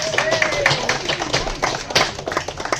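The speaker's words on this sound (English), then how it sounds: "Give them a round of applause." Scattered clapping from a small group at a Baptist church Sunday service, uneven and lively, mixed with voices and some high cheering.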